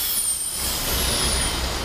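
A truck's air brake hisses on a busy Moscow road at a construction area, a loud sustained rush of air close by amid steady traffic noise.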